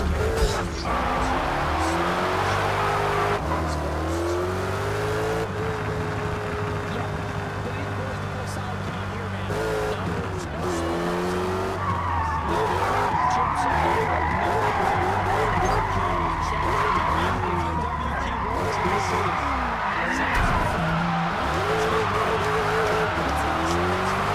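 Race car engines roar continuously with repeated tire skids and squeals in a stock car racing video game, while a voice talks over the action throughout.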